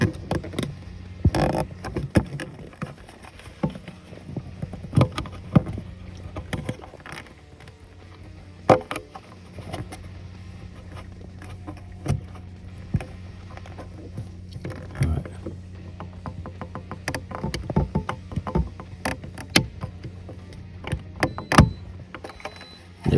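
A Hisense fridge water filter unit being twisted out by hand, giving a series of faint plastic clicks and scraping ratchet-like ticks spread irregularly over a low steady hum, with no talking.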